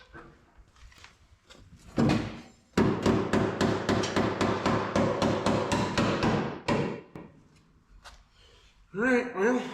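Body hammers knocking on the floor pans of an Apache truck: a few scattered knocks, then a fast, steady run of loud close metallic blows for several seconds, tapering into sparse hits before voices return.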